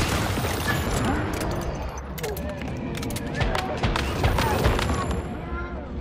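A minigun in the game Once Human fires in sustained rapid bursts, dense crackling gunfire with booms and mechanical clatter over several seconds while someone talks over it.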